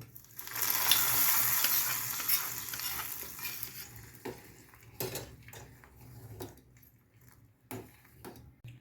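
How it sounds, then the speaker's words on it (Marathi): Hot tempering poured into boiling onion rasam, a loud burst of sizzling and crackling that fades over a few seconds, followed by spoon stirring and clinks against the pot. "त्याच्यामध्ये आता आपण ही फोडणी घालणार घालायची आहे"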